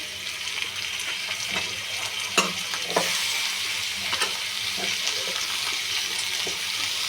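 Tomatoes and curry leaves frying in a pan for fish kulambu, a constant bright sizzle with scattered utensil stirs and taps, close by.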